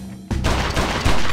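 Loud gunfire erupts in the video game XIII after a quiet moment, with sustained rapid shots and booming impacts close by.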